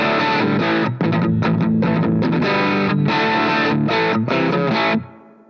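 Heavily distorted electric guitar played with the gain turned up through a Positive Grid Spark amp, loud chopped chords and riffs with short gaps between, ending in a quick fade.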